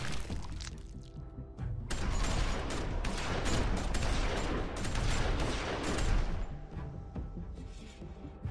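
A loud, sustained burst of dense rapid gunfire with crashing impacts erupts in the season 2 finale of Telltale's The Walking Dead game, running several seconds before tapering off, with no talking.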